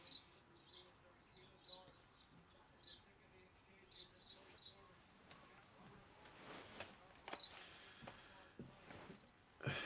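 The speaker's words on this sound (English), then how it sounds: "there's bloody sparrows that sit on the windowsill up there." Sparrows perched on a windowsill give faint, repeated high chirps in short bursts, heard distantly against a low indoor background hum.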